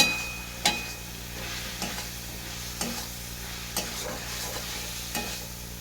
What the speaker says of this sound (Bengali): স্পুন আদা রসুনের পেস্ট আমি দিয়ে দিলাম আবার এটাকে কষে নেবো পেস্টটাকে